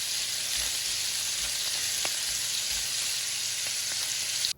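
Food browning in a hot pan, a loud continuous hiss of frying that holds evenly throughout with a few faint crackles, then cuts off abruptly at the end.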